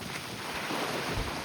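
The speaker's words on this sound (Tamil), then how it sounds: "ஆனால் காற்றோட வேகம் வந்து அதிகமாக ஆரம்பிச்சிடுச்சு" Strong wind gusting across a beach before a storm, a dense roaring rush buffeting the microphone with surf-like noise and no voices.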